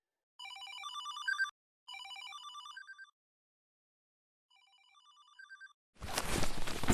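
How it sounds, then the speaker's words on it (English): A phone ringtone rings in the video game Desolatium, two bright melodic bursts, a pause, then a softer repeat, clear and electronic, cut off by a sudden loud noisy burst. "Is that a phone ringing?"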